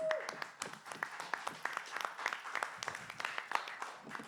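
An audience at a community gathering claps for itself, a fairly quiet, thin round of scattered handclaps with a few sharper claps, and some voices faintly mixed in.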